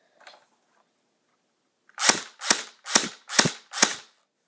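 A custom HK416 airsoft rifle fires five sharp semi-auto shots in an even rhythm, close and loud, after a faint click near the start.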